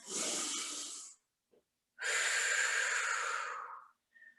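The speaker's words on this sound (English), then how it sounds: "Couple big breaths in. Big breaths out." Two big, deep breaths are heard up close, each a long breathy rush of air, one in and one out, with a short pause between them. No talking.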